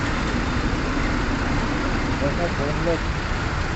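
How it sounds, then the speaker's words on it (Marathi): A road jammed with traffic gives a steady, dense rumble of idling and creeping car and truck engines, close and continuous throughout. "पूर्ण ट्रॅफिक जॅम"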